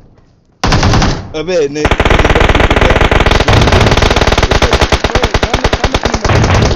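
Rapid automatic gunfire in PUBG Mobile, loud and close, with sustained bursts that run almost unbroken, while someone shouts briefly over the shooting.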